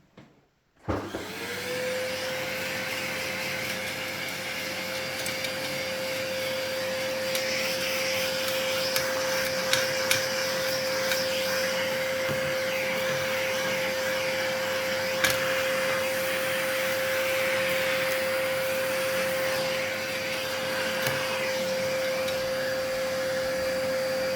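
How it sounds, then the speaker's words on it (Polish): Vacuum cleaner switched on to dust out an old Mazur Lux tube radio, starting abruptly then running as a loud steady whine with a fixed tone for the whole stretch, with small knocks as the nozzle moves over the chassis. "Startujemy z odkurzaniem."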